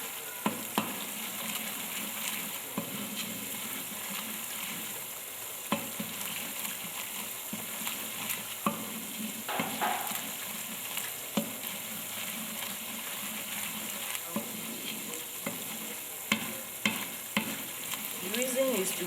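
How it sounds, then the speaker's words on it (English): Tomato paste for jollof rice sizzles steadily in a pot while being stirred, a continuous soft frying hiss broken by frequent scraping stirs and clinks, close and fairly quiet. "I'll stir till it gives me a change in color. The tomato paste."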